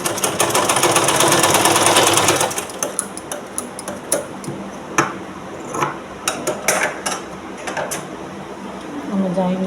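A sewing machine stitches two blouse pieces together, with a dense steady whir for about two and a half seconds, then short bursts of stitching and clicks. Quiet talk runs underneath.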